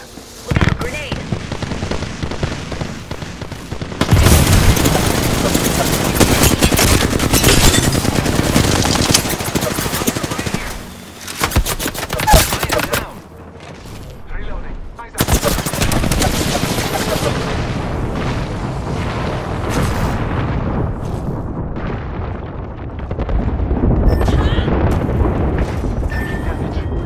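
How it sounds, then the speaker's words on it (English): Heavy, sustained automatic gunfire and booming blasts in Apex Legends, a grenade explosion among them, loud and near for most of the stretch with a brief lull midway, mixed with game voices and talk. "Look out, grenade!"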